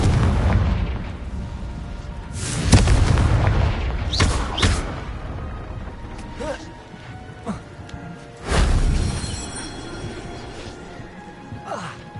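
Confringo blasts from the explosion spell in the PS5 game Hogwarts Legacy: several deep, booming bursts land a few seconds apart over a rumbling backdrop, the loudest near the start and toward the end.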